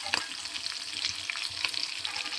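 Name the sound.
garlic and curry leaves frying in oil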